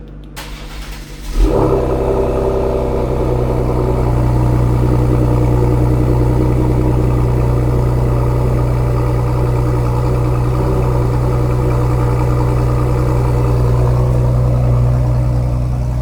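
A 2020 Ford Explorer ST fitted with downpipes and a 3-inch Thermal R&D exhaust cold-starts after a brief quiet moment, then settles into a loud, steady, deep high idle that holds to the end.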